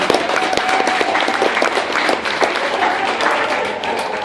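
A recovery festival crowd breaks into loud, dense applause, close and continuous, with rapid overlapping claps and no talking.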